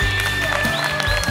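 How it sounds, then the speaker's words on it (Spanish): A studio audience at a Panamanian televised singing-audition final gives a brief burst of applause over a faint background tone. "¡Fuerte el aplauso, Coco!"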